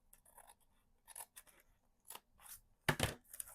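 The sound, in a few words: cutting a sliver off a book page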